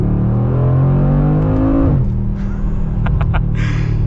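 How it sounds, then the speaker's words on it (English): Mercedes G63 G Wagon engine and exhaust roaring loud and close under hard acceleration, a steady rising growl for about two seconds, then dropping to a lower rumble with a few brief sharp crackles near the end. "this is the exhaust they have on the G63"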